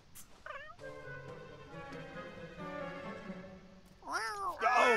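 Cats in The Sims 4 life-simulation game give short, expressive meows and one drawn-out yowl, sitting over a soft, steady tonal game-music bed, with no talking.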